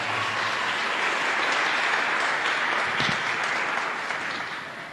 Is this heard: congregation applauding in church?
yes